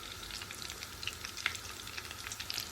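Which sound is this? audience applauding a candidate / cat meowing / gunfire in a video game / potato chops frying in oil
potato chops frying in oil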